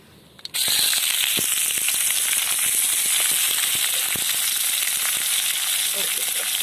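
Onions hiss and crackle loudly in hot oil as they hit the pan for a tomato chutney, a sudden onset of steady, close sizzling with scattered pops that continues throughout.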